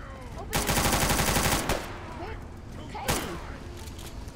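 Gunfire in Fallout, Tale of Two Wastelands: a loud burst of rapid automatic shots lasting about a second, then a single sharp report a moment later, with a voice talking faintly around it.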